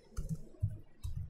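Three short clusters of keystrokes on a computer keyboard while code is typed, soft close clicks in a quiet room.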